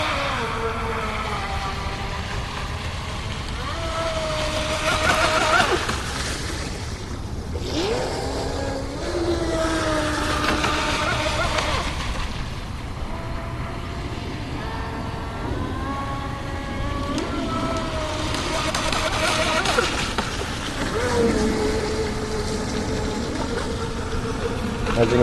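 Pro Boat Widowmaker RC boat running across water at about 70% throttle, a thin, buzzing electric whine that rises and falls with turns, fairly distant, with occasional speech.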